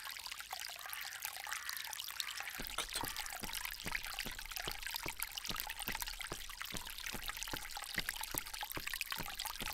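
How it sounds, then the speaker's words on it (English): Fountain in an Agatha Christie ABC Murders video game, a soft, continuous splashing and trickling of water with rhythmic droplet patters, fairly quiet and heard alone. "This fountain makes a very relaxing sound."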